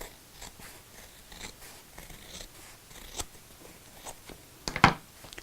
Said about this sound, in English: So I'm moving the bias binding out of the way, and I'm just going to trim this back.